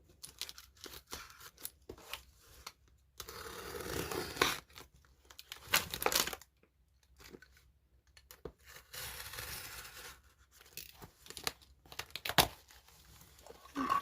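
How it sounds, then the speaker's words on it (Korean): Cardboard merch package box being torn and ripped open by hand, with irregular bursts of tearing and crinkling separated by quiet pauses, close and fairly loud, no talking. "일단 상자를 먼저 뜯어볼게요"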